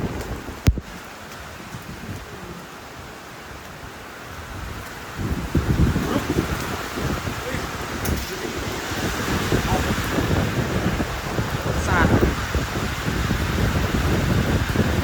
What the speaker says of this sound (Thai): ดูดิฝนมันสาดเลยนะ